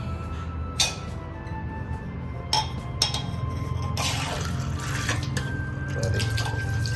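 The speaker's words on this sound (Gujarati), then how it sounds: "ધોવો પડશે ગ્લાસ." A drinking glass is rinsed under a cold drinking-water tap: steady running and filling water with sharp clinks and splashes throughout, no voices.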